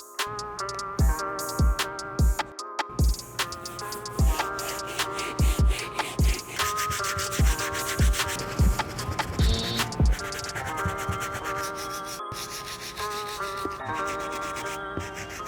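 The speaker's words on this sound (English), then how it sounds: "I'm just gonna grab my medium bristle brush and tackle those deeper stains." A medium bristle brush scrubs the leather of Air Jordan 12 OVO sneakers, giving steady close rubbing and scratching strokes with repeated sharp brush knocks, while music plays underneath.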